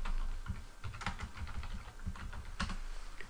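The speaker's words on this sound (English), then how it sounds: "you type in divorce attorney." Someone types a search on a computer keyboard, and the keys rattle in quick, uneven bursts of crisp clicks. The typing is heard close up and alone, over a low background hum.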